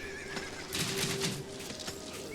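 Horses neighing in the Ancestors Legacy real-time strategy game, with a loud, drawn-out whinny over a busy battle background and faint hoof clatter, no talk.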